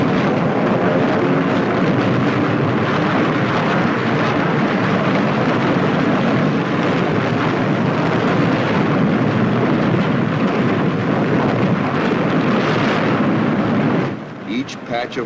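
Warplanes fueled and loaded with bombs roar on an aircraft carrier's flight deck during 1944 wartime takeoffs, a loud, dense, continuous engine din that holds steady for a long stretch and then drops off near the end.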